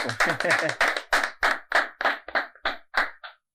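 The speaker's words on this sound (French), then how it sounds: "Alors, il est avec nous, on l'applaudit." Rhythmic clapping on a television show to welcome a guest, about a dozen loud, evenly spaced group claps at a quick, steady beat that stop abruptly.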